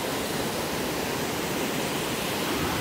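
Broadband surf from ocean waves breaking at Praia Brava beach in Itajaí, a steady continuous roar with no distinct individual breaks, loud and alone.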